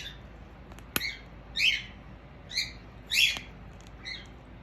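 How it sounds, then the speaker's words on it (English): Pet birds squawk in short, harsh bursts, about five calls spaced a second apart, with a sharp click among them, fairly close indoors. "that's my birds making noise"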